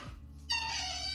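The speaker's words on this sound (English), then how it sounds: "Oh, cute. It's a cat." A cat meows once, a short clear call heard close and alone after a brief low thump.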